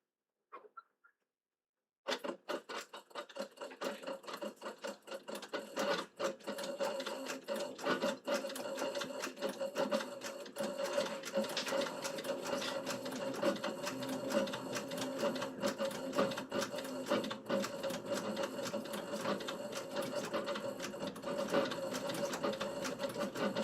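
A sewing machine stitches chrome tan leather for a mousepad, its rapid, even stitching running loud and continuous after a brief quiet start, with no talk over it.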